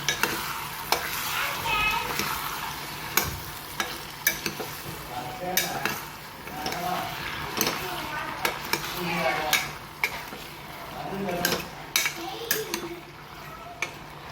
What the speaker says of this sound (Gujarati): બધું સરસ આપણે મિક્સ કરી દઈએ.